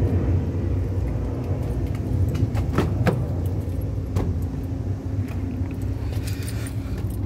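Keys jangle and a car is unlocked and opened, a 2009 Toyota Corolla, with a few short clicks and rattles over a steady low outdoor rumble of road traffic.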